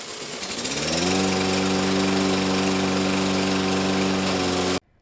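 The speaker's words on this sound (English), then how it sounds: "Now that Ryan has started mowing the lawn" A lawn mower cuts grass in a backyard garden, its engine revving up over the first second into a loud, steady droning hum that holds and then cuts off abruptly near the end.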